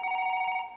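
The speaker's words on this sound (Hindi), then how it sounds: "बच्चे के स्कूल से फोन।" A telephone bell rings in a comedy sketch, a steady electronic double tone held for most of a second before fading, clear and alone with no talk over it.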